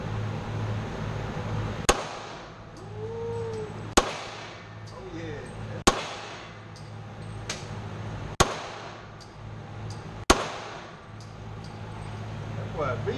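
.40 caliber handgun firing at a shooting range: six sharp, loud reports spaced a couple of seconds apart over steady ambient hum, with people talking between shots.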